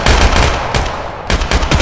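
Rapid, loud rifle fire in the VR shooter Tactical Assault VR, continuous bursts with brief gaps, close and dominant with no talk over it.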